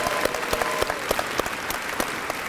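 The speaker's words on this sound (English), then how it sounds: "Let's applaud those students" An audience at a university convocation applauds scholarship students with dense, sustained clapping from a crowd, steady and fairly close throughout.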